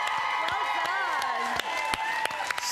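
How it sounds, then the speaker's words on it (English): A studio audience at a children's TV show claps and cheers for Catherine, with steady applause, whoops and scattered sharp claps, and several voices calling out over it. "let's give a big cheer for Catherine today"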